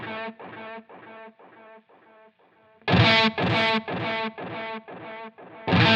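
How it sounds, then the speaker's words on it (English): Guitar through a Line 6 Helix Cosmos tape-style delay with wow and flutter, chords repeating in a steady pulse with wavering pitch. Quieter repeats fade out, then a louder burst of repeats follows, with no voice. "It's just basically going to be the imperfections of the tape itself, giving some weird pitch and warbly effects to it."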